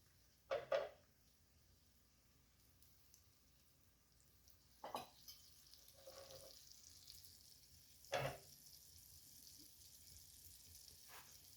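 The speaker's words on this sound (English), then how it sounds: "It's gonna get probably loud because it's gonna fry up here a little bit." Freeze-dried egg batter frying in a carbon steel skillet, a faint, steady sizzle broken by a few brief louder scrapes or pours, quiet and close with no talking.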